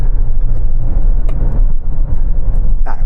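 Chery SUV accelerating hard from a standstill under full throttle, a steady loud engine drone with road and wind roar filling the low end, continuous and close throughout.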